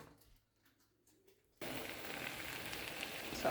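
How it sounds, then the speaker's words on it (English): Cilantro lime sauce hits hot chicken in a pan and bursts into a loud, steady sizzle while being stirred, after a quieter start with faint clatter. "so now I add the sauce. Just stir it up."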